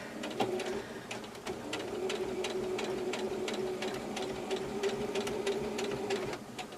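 A domestic sewing machine locks its stitches on a fabric patch pocket, running steadily with a rapid mechanical ticking throughout, close and moderately loud, with a brief change near the start as it sews forward and back.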